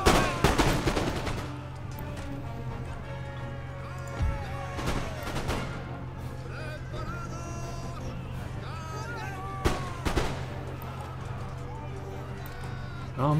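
Musket volley fire on a battlefield in the strategy game Empire: Total War, with sharp crackling volleys around the start and again near the middle, over a steady low battle din.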